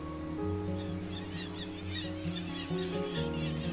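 Guillemots swimming near the shore give a chorus of harsh, nasal honking calls, several birds overlapping close by in repeated drawn-out notes.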